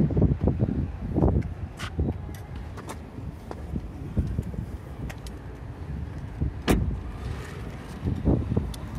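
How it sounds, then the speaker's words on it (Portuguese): Strong outdoor wind buffets the microphone in gusts while working on a Fiat Toro door handle, low rumbling bursts rising and falling, with no speech over it. "Tá ventando muito aqui, pessoal."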